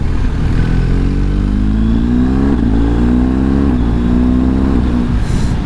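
A BMW R1250 GS motorcycle fitted with an SC Project aftermarket exhaust pulls hard in loud, close acceleration, its engine note rising steadily, dipping at a gear change and climbing again.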